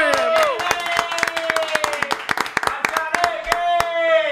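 Quick sharp claps from a small studio group welcoming a Chilean guest on a trap interview set, crisp and close, over sustained tonal voices or music.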